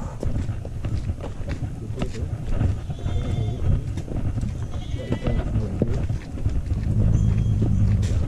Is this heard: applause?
no